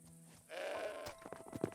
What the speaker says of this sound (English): Stupid goat.